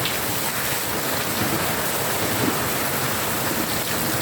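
Steady, dense rain pouring down continuously, a broad hiss filling the whole clip at an even loudness with no voices.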